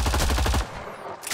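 Rapid automatic gunfire crackles in a fast, loud burst of evenly spaced shots during combat in Mass Effect Andromeda, then cuts off into a fading tail and a brief later burst of noise.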